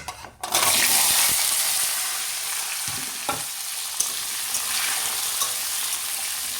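Potatoes drop into hot oil in a pan with a sudden loud burst of sizzling that then settles into a steady, close crackling fry, with a few soft clinks as they are stirred.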